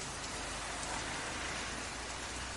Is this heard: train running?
no